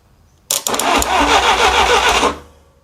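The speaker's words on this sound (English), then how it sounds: "First, I'll try cranking." Car engine cranking during a rebuild after a new cap and rotor, a single loud whirring crank that starts abruptly, churns steadily for about two seconds and then stops, close and clear.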